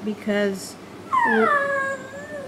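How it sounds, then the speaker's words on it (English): A pet dog gives a drawn-out, squeaky whining yawn that rises and falls in pitch, close and clear, after a short spoken word. "that's my dog yawning, excuse him."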